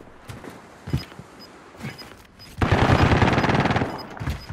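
Gunfire in a shooter video game: a few scattered single shots and thuds, then a loud sustained automatic burst lasting over a second, with no talking.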